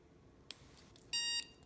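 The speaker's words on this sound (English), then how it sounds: "you hear that beep?" A short, clear electronic pairing beep from a coyote zapper receiver, steady and high-pitched, following a faint click, in an otherwise quiet room.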